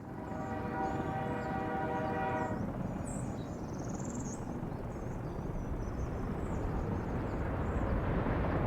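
Trains in the city-building game Workers & Resources: Soviet Republic: a steady horn-like tone sounds for a couple of seconds, then gives way to a broad, even rumble of rolling stock.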